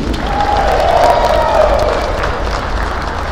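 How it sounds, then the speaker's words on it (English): A volleyball arena crowd at an MSU Billings versus St. Martin's match cheers and applauds for a player, a steady, loud wash of clapping and shouts with a whistle-like tone near the start. "One more round of applause for Haley."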